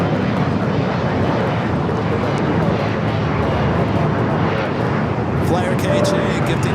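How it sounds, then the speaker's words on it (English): A United Boeing 787-9 Dreamliner on the Hong Kong flight roars steadily at Los Angeles airport, a loud broadband jet rumble filling the whole stretch, with a voice speaking over it. "United Dreamliner getting in their shot"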